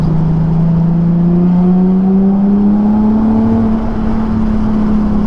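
A Nissan 370Z engine revs steadily upward under acceleration, its tone climbing smoothly and continuously, loud and close, with a buzzy motorcycle-like edge and no talk over it.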